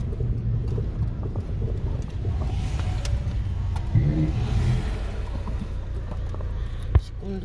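A car on the road to Batumi, Georgia, heard from inside as a steady low engine and road rumble, with a couple of brief knocks.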